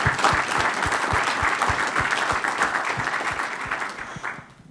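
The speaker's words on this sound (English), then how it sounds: "To the coaches, yeah, we can clap for" Sustained applause from an audience honoring coaches at a university New Venture Challenge finals, dense steady clapping for several seconds that tapers off at the very end.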